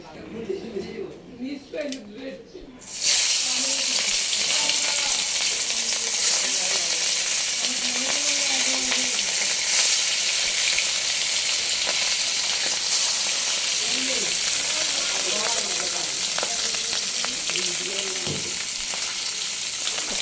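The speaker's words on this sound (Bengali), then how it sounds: "মাছগুলো সুন্দর করে দিয়ে দিচ্ছি, মাছটা ভাজা হোক" Steady, loud sizzling of tengra fish frying in hot oil, a dense continuous hiss after a brief quieter start, with occasional faint voices in the background.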